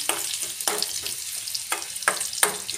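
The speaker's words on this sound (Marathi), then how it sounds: "आता आपण त्याच्यात लसूण टाकू। लसूण आपला चांगला भाजला" Garlic frying in a pan for a Maharashtrian dal tempering, with a steady sizzle and several sharp stirring scrapes spaced through the sizzle, moderately close and with no voices.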